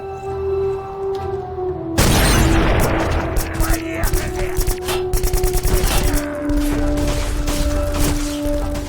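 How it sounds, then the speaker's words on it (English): Rapid gunfire in Call of Duty: Black Ops, a dense volley of automatic shots bursting in loudly and then repeating in quick rhythmic bursts over a steady game soundtrack. "you heard McCarver fire"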